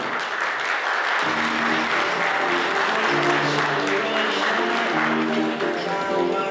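Sustained applause from a hall full of people at a youth volunteer forum awards ceremony, steady and dense for the whole stretch, with tonal music or voices underneath from partway in.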